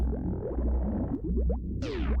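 Ambient noise from the Tourian area of Super Metroid, a deep low rumble with scattered gurgling, bubbling chirps and a rising sweep near the end, steady and moderately loud.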